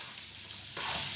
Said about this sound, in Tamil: வெங்காயத்தை போட்டேன்.